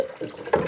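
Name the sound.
pouring cold pressed lemon juice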